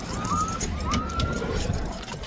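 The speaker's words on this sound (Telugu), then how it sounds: "పోలీసు వాళ్ళు వాంచుకుంటున్నారు సైరన్ కొట్టి" A Kuwaiti police car siren wails nearby in rising and falling sweeps over the rumble of street traffic during National Day celebrations, with no talking heard.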